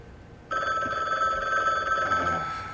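A telephone rings in the video game The Bookwalker: Thief of Tales, starting abruptly with a bright, steady trill that holds loud for over two seconds with no talk.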